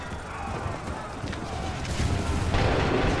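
Musket volleys from massed infantry in Assassin's Creed 3 Remastered: heavy booming blasts crack out over a dense, rumbling battlefield din, with the loudest discharges landing late and close.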